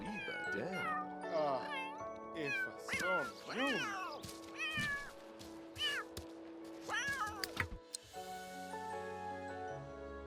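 Several cats in The Sims 3 meow repeatedly and in varied pitches, close and loud, with a sustained caterwauling tone near the end over a steady game background hum.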